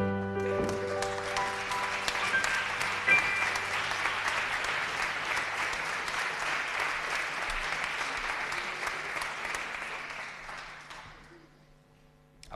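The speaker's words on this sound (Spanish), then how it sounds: "Aplauden ustedes muy bien y muy bonito." A crowd at a literary and poetry event breaks into loud, sustained applause that holds steady for about ten seconds and then fades away.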